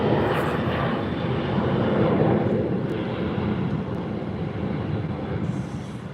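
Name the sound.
Boeing 777-300ER airliner using reverse thrust on landing at LAX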